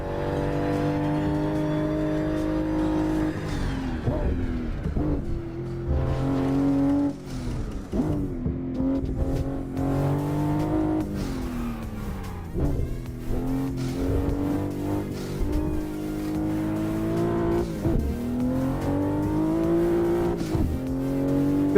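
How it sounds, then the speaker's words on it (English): Toyota Supra MK5 engine in a racing simulator game on a No Hesi server, repeatedly revving up through the gears with rising whining pitch, brief dips at shifts, and a steady loud drone throughout, with no talk over it. "This is the Supra MK5 and I'm driving in the No Hesi server."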